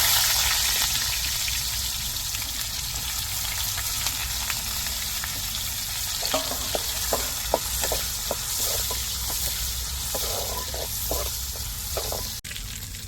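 Chopped onions frying in a pan for a dried-fish curry, a steady broadband sizzle throughout with a run of light clicking stirs and scrapes in the second half, no talking.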